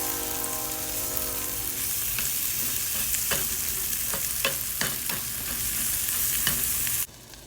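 Mushrooms and spinach frying in butter in a pan, a steady close sizzle broken by scrapes and clicks of stirring, then cut off abruptly near the end.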